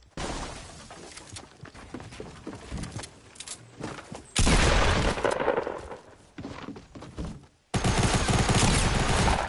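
Gunfire in the video game Fortnite, including pump shotgun blasts, with several loud, dense bursts of shooting that abruptly start and stop, mixed with quieter in-game sounds and clattering between volleys.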